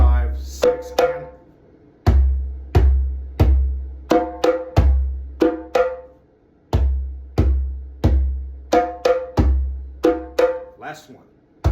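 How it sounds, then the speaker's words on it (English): A hand drum plays a crisp rhythmic phrase, each stroke sharp and close with quick decays, grouped in repeating patterns of strong and lighter hits against silence. "These are great rhythms to play at drum circles."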